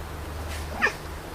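A house cat lets out a single short meow close by, indoors, over a low steady background hum.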